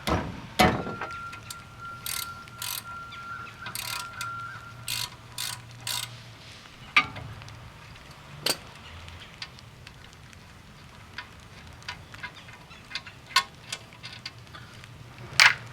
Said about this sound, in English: I'm going to use a 1/2-inch drive ratchet on these.